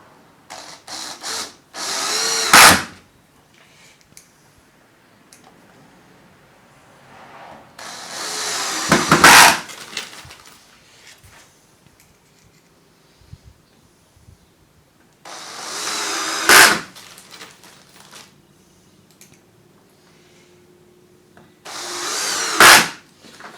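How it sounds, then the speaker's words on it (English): A power drill drives screws into a retractable castor mechanism being built for a woodworking jointer, running in four separate loud bursts of a few seconds each with quiet gaps between them and no talking. "We'll just put the other screws home."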